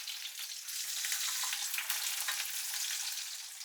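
Venison grill steaks sizzling in a frying pan, a steady, close, crackling fry with fine popping spatter throughout and no talk over it.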